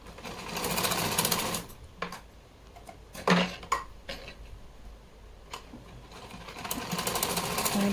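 Sewing machine stitching fabric for a small Laddu Gopal dress, running in bursts with short pauses and a few sharp clicks and knocks between runs, near and moderately loud, with no talk.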